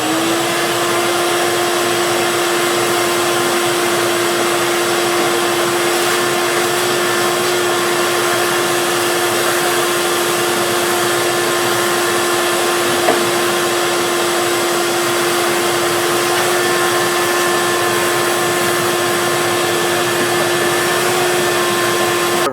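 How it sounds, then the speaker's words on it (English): Small shop vacuum kept by a miter saw sucking up sawdust in a woodworking shop, a loud, steady motor whine with a constant tone that runs unbroken for over twenty seconds. "Now we're going to take my other small one I keep with the miter and just kind of vacuum up this mess"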